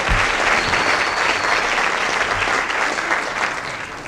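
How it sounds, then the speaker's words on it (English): An audience applauds the band's soloists at a Canadian music festival in Toronto, a dense, steady wash of clapping from the whole hall that thins slightly toward the end, with no voices over it. "they too deserve a round of applause"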